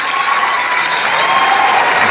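A crowd applauds and cheers for Nicki Minaj in a dense, steady wash of clapping and shouts, loud and unbroken.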